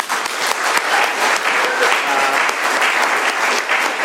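An AA meeting group in Doylestown, Pennsylvania gives the guest speaker a round of applause, a loud, close burst of many hands clapping that holds steady for about four seconds.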